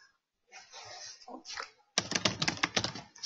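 Rapid clattering keystrokes on a computer keyboard come close and clear in a quick irregular burst after a few softer, scattered clicks and rustles at the start.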